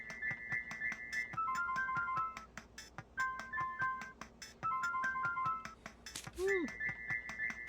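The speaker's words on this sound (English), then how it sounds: "This new Brain Creek ringtone is hot" Brain Creek ringtone from the Homestar Ruiner video game: a tinny electronic jingle repeating its short beeping phrase several times, broken by a falling swoop near the end before the melody resumes, with faint clicks underneath.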